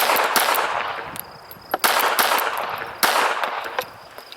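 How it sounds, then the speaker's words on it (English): A S&W Bodyguard .380 pistol fires at a range in quick pairs, two sharp cracks per string separated by a pause, loud and close with ringing after each burst. "I'm going to shoot a little faster, a couple of strings, 2 shots at a time"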